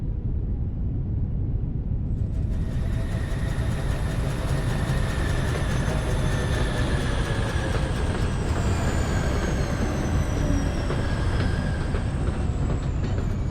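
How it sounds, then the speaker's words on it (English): In the factory-building video game Foundry, a train arrives with a steady, loud rolling rumble and a thin rising metallic whine that builds and holds throughout, with no talking. "Here comes the train."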